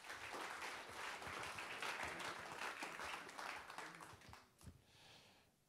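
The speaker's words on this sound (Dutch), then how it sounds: "Geef hem een hartelijk applaus, Michael Vlerik." An audience at a university talk applauds warmly for several seconds, the clapping thinning out and fading near the end, with a few scattered claps.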